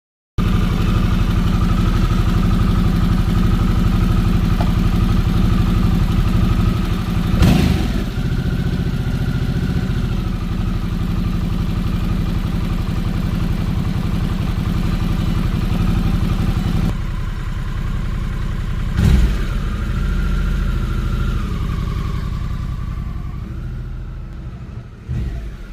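Harley-Davidson Sportster S motorcycle engine running steadily and loud throughout, a continuous rumbling drone with a couple of brief revs or gear changes midway and near the end, no voices.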